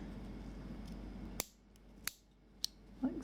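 Scissors snip excess crochet yarn in three or four sharp, isolated clicks spaced about half a second apart, close and clear against a quiet background.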